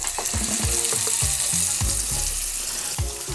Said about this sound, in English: Let it sit. You're gonna let it sit on this side for about 3 minutes. Get a nice hard sear.